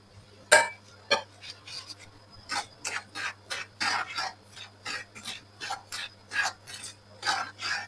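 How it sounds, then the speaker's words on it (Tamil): Semolina (rava) tipped into a hot pan and dry-roasted for rava dosa, heard as a sharp scrape followed by a run of rhythmic gritty rasping strokes, close and clear, with no talking. "நாங்கள் இந்த ரவையை கொட்டி வறுத்து கொள்ளுவோம்"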